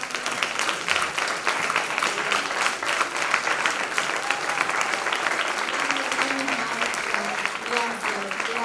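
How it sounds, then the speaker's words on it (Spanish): A large audience at a gathering on anti-racist struggles claps loudly, with sustained, even applause throughout and faint voices mixed underneath. "un aplauso enorme"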